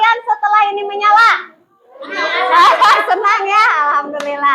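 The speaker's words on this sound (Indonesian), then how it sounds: "Tepuk tangan." Children in a classroom clap their hands among lively young voices, and the clapping stays close and mixed in with loud children's chatter and shouts.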